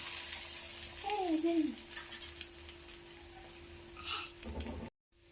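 A butter egg masala omelet sizzles gently in a pan over a flame, a soft steady frying hiss with a brief voice-like sound, fairly quiet, ending abruptly.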